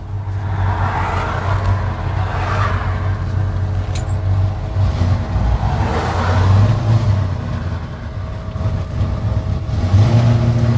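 A 1970 Ford F100 pickup truck accelerating on a road: a loud engine rumble swelling through a couple of revving surges, with steady low droning between them and no clear voices.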